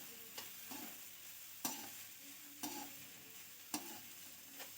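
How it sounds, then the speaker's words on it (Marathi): Cabbage and mixed vegetables being stirred in a pan for veg Chinese noodles: a soft continuous sizzle broken by regular scraping strokes of a spoon, each with a small clack, close and quiet. "कोबी, हे सगळे व्यवस्थित मिक्स करून घेऊया."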